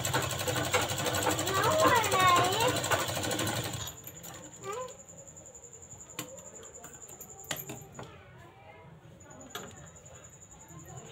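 A sewing machine runs loud and continuous for about four seconds, stitching a double seam joining a blouse cup and side panel, then stops, leaving faint handling clicks and rustles.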